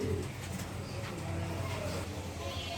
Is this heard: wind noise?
no